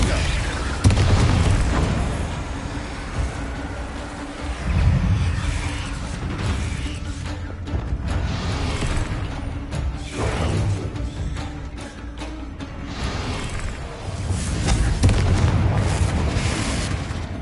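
Repeated Confringo blasting-spell explosions in Hogwarts Legacy boom one after another, with loud surging bursts and mechanical creaks and rumbles that swell and fade throughout.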